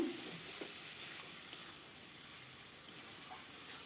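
Spice paste for potol dalna frying in oil in a pan, a steady close crackling sizzle running throughout with a few faint stirring scrapes, no voices.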